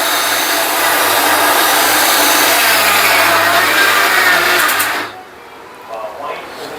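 A mixer grinder grinding dal for puran poli whirs loud and steady at close range for about five seconds, then cuts off, leaving quiet room sound.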